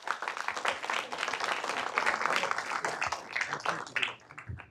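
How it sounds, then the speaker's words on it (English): City council meeting audience gives a round of applause for a group of young scouts, dense close clapping that holds steady for a few seconds before thinning out at the end. "can we give these young men a round of applause?"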